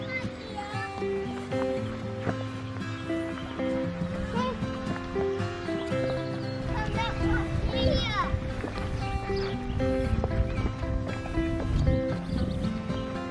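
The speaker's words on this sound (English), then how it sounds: "Horses." Horses clip-clop along a road near Brecon, with a neigh standing out over a busy outdoor scene, while children and adults chatter throughout.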